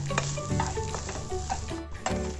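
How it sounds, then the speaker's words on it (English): Grated coconut, raisins and cashew nuts stirred together in a hot pan for gujia filling, close scraping and rattling strokes over a steady sizzle, busy and continuous with no talk. "We continue to stir all the ingredients together until they are slightly dry."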